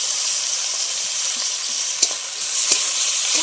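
Onion and tomato fry in hot oil with a loud, steady sizzle, and a few soft stirring scrapes break through now and then, with no voices.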